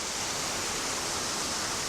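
Steady, dense rush of a waterfall in Karura Forest, a constant broadband roar with no pauses or breaks, close and even throughout, with no voices over it.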